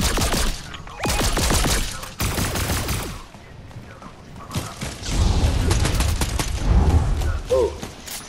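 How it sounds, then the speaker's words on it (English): Bursts of rapid gunfire in Fortnite crack out in several close, loud volleys, then give way to scattered shots and mechanical clatter, with occasional faint voice. "He's shooting at me."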